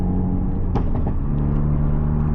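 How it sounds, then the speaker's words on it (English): A car engine rumbles steadily while a few sharp exhaust pops crackle out in quick succession near the middle, close and loud. "You see the pops come alive when you put it in mode."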